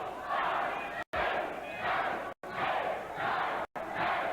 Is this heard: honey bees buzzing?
no